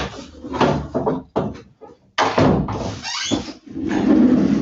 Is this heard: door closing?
yes